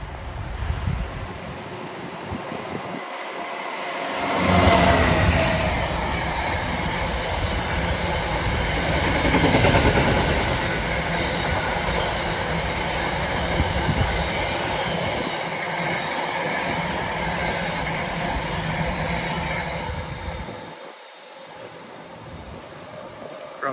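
A Meridian passenger train runs south past Tuxford toward Derby, a long loud rolling rumble with clattering wheels that builds, peaks twice, then fades away near the end, with no talk.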